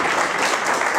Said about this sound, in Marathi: एक टाळ्या झाल्या पाहिजे